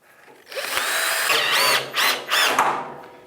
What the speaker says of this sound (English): So I got my drill and my socket.